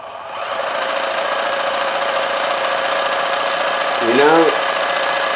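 A freed-up vintage sewing machine runs steadily with a loud, even mechanical whir and buzz throughout, and someone speaks briefly over it near the end.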